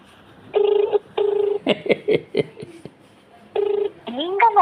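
Telephone ringback tones on an unanswered call: repeated steady tone bursts, two at the start and one later, with speech filling the gaps between them.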